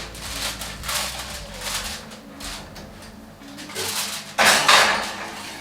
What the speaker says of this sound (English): So for the Brussels sprouts, I cooked the bacon ahead of time. Matt's chopping it